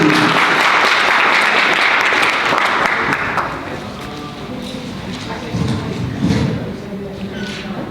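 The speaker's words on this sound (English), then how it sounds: "I got more claps than I could hear." Loud audience applause at a Republican candidates' forum in Ohio, dense and steady at first, then thinning into scattered claps with brief thumps and some background voices.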